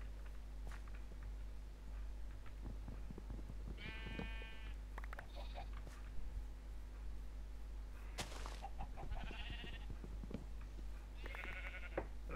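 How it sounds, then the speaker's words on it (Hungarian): Sheep in the Minecraft (FTB) video game bleat several times, the short wavering bleats spaced apart at moderate volume over a faint steady background hum, with no talking. "ez a kis birka. Közelre úgy nézett ki, mintha nagy birka lett volna, nagy a feje."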